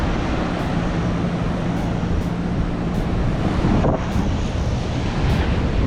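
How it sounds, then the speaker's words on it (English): Gusty wind buffets the microphone at a beach during a camping trip, a loud, continuous rumbling rush with surf blended beneath it. "it's super blowy, so I don't think I'll be surfing today"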